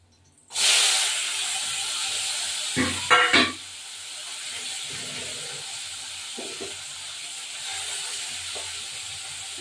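Tengra fish dropped into a hot pan bursts into loud hissing, then a brief clatter of utensils and a continuing softer, steady sizzle with occasional small pops.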